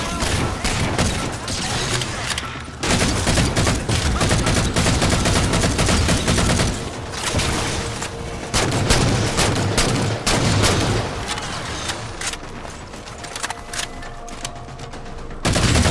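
Sustained assault rifle fire in Halo 4 during a battle against a Knight, with rapid, near-continuous bursts of shots. Dense gunfire and heavy combat noise fill the whole stretch, broken by a brief gap near the start.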